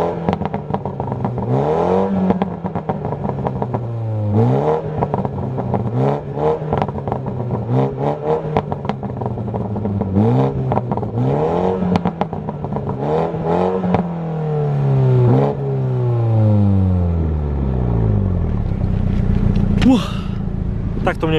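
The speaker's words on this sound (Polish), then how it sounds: "Sprawdźmy w ogóle, jak brzmi ten silnik na wolnych obrotach, a potem przy lekkim toczeniu się" A 2020 Mini Clubman JCW car engine, BMW-built, idles with a low, uneven rumble, then rises and falls as it revs and rolls, clattering slightly throughout, recorded close by.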